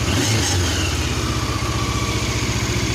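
A 2000 Honda CB 500 S motorcycle idles steadily close by, its even low-pitched pulsing beat running loud and unbroken throughout.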